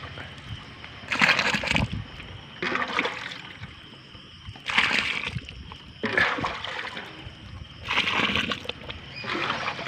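Milk poured into a pot, heard as repeated close splashing and trickling bursts in a steady rhythm of pours with brief gaps between them.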